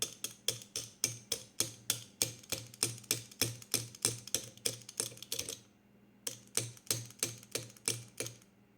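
A fuel injector from a 1989 Toronado clicks while being bench tested: rapid, even, crisp ticks about four per second, close and alone, broken by one short pause before they resume.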